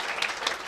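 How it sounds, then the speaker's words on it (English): A short burst of audience applause at a Carnatic veena concert, dense clapping from a crowd at moderate volume. "Sri Jeyaraaj, Vidwan Thanjavur Kumar, a round of applause for him."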